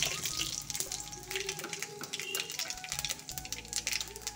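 Panch phoron and dried red chillies sizzle in hot oil in a wok, a steady, close crackle with small pops throughout, and a person talks over the cooking.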